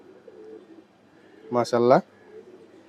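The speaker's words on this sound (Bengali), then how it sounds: "লাল খাকি টাইপের একটা মাদি কবুতর" A female pigeon gives a short, close coo of two quick throaty notes, with quiet background murmur before and after.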